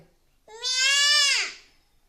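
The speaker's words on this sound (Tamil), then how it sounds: "ஆடு" One loud, wavering goat bleat, close by, lasting about a second and trailing off at the end.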